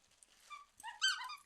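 A dog whimpers in a series of thin, high whines and yips, soft at first, then rising into a louder cluster of plaintive cries close by.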